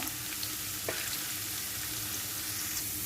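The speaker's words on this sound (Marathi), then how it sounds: "छान अशी लसूण आपली भाजली गेली आहे" Garlic roasting in a pan for a vegetable bhaji gives a dense, even sizzle close up, with one faint scrape partway through and no speech.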